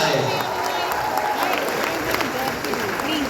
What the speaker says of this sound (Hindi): फिल्मी जीवी मोसेस के लिए जोरदार ताली हो जाए